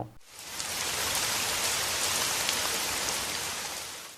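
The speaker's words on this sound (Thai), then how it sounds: "ฝนเริ่มตกแล้ว" Rain falls steadily and fairly loudly, a dense continuous hiss of drops on surfaces that fills the whole stretch without any voices.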